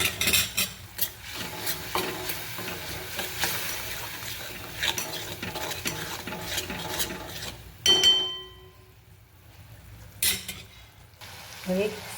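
Guar beans sauté with spices in a pan, a steady oily sizzle broken by scraping spoon strokes against the metal, then a brief quiet before a few more clanking stirs.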